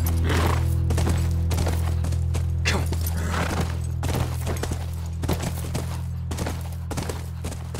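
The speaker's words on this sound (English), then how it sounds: "That's our horse." Horse hooves clip-clop in a steady, evenly spaced rhythm across a ranch in The Last of Us, with sharp repeated impacts over a constant low droning hum and no talk.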